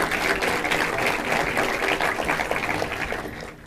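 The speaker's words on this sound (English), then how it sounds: "A huge applause, please." Conference audience at a talk on big data and algorithms gives steady, dense applause, a continuous wash of clapping that holds evenly before tapering off at the end.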